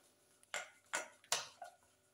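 Hot cream being stirred into chocolate for a glaze, a utensil clinking against a bowl in three crisp, evenly spaced taps followed by a softer scrape, quiet and close with no talk.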